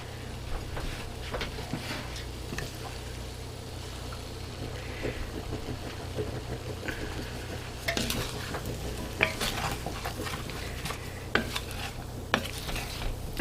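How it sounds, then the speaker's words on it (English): A spoon stirs a roux in a hot pan, giving continuous scraping strokes over a soft sizzle, with sharper clinks against the pan near the end and no talking. "I'm gonna make my roux here"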